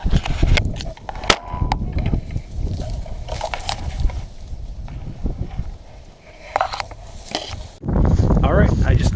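Sharp shotgun blasts crack out during a windy mallard duck hunt, several sharp reports among heavy wind rumble and rustling, with a person talking in between.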